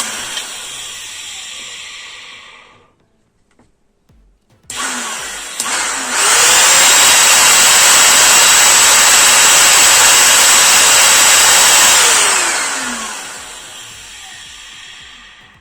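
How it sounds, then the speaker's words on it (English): The motor of a Gorenje SVC216FGD robot vacuum being tested on the bench runs up into a loud, steady high whine, holds for several seconds, then winds down. "So the motor is good."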